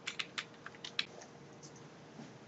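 Keys on a computer keyboard, Shift and the arrow keys, tapped in a quick run of five or six crisp clicks followed by a few fainter presses, quiet and close.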